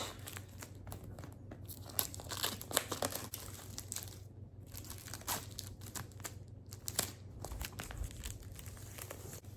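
Medical glove packaging is torn open by hand, without scissors: close, quiet crinkling and tearing of the wrapper in irregular bursts, with no talking.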